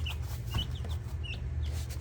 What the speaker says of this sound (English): This is what chickens do. They scratch and they peck.